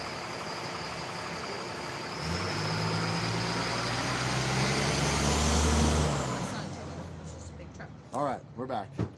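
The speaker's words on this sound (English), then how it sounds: "There's a tow truck." A tow truck drives past along a road, its engine rumble swelling loud and close before fading away, with a voice talking over the passing noise.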